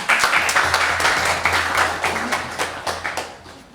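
An audience at a literature and education talk featuring a Padma Shri awardee claps steadily, a dense patter of many hands that thins slightly toward the end.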